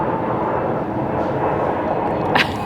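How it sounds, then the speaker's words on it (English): Passenger plane flying overhead near Chiang Mai airport, a loud, continuous broadband engine roar filling the whole moment outdoors by a house, steady and close with no voices. "There is currently a plane going overhead."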